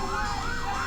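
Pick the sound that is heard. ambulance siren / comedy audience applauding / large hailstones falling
ambulance siren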